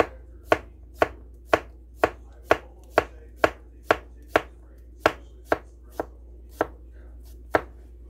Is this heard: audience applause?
no